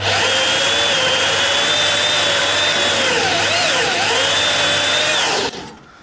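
Sharpened drill boring holes for bushings, one long continuous whining run at close range. The pitch dips and wavers under load and then cuts off near the end. No talk is heard.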